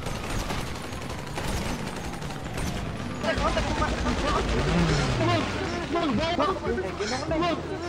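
Bursts of rapid gunfire in a GTA V roleplay game crackle faintly beneath a dense mix of game noise, while people talk over them throughout.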